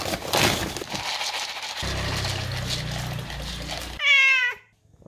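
A house cat gives a single clear, close meow near the end, following a few seconds of household clatter and rumbling.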